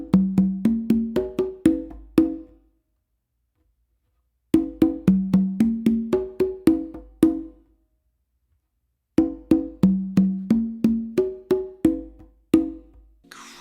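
Three bursts of a quick funk fill are played by hand across four conga drums, each a cascade of sharp slaps and deep open tones with short silences between them. The drums are close and loud.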